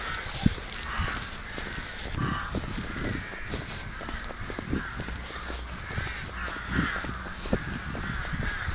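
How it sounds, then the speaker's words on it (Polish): Crows caw repeatedly in short bursts across a residential area of Kraśnik, Poland, on a cold Sunday, steady outdoor hum beneath the calls with no talking. "wrony srakają."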